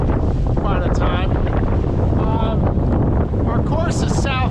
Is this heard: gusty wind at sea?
yes